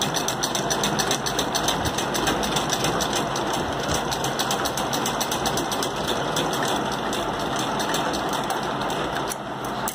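A sewing machine runs steadily while doing a reverse stitch, making a continuous, close whirring hum with a fast mechanical rhythm throughout.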